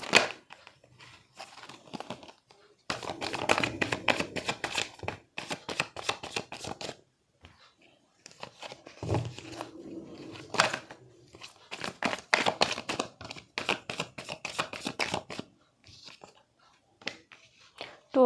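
Tarot cards being shuffled by hand, bursts of quick papery riffling and flicking separated by short pauses, close and soft.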